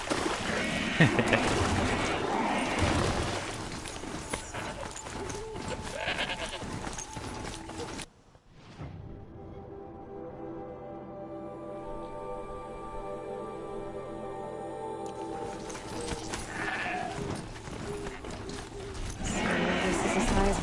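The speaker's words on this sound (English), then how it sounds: "only mountain goats can make this place their home" Mountain goat bleats in Horizon Zero Dawn: The Frozen Wilds sound over a noisy game background with hums and tones, calls recurring several times, moderately close.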